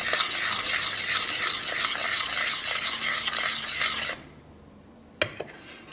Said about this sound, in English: we are going to mix in the flour and bicarbonate